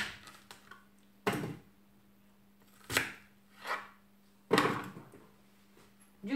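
A kitchen knife cuts onions on a cutting board in a home kitchen, a few sharp, separate chops spaced irregularly apart, close and clear against a quiet background with a faint steady hum.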